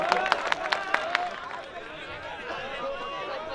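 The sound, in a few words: audience applause at a mushaira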